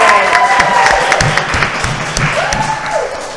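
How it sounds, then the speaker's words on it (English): Applause at a city council president runoff candidate forum, a steady wash of clapping from the audience throughout, with a voice briefly heard over it. "And a round of applause for our moderator."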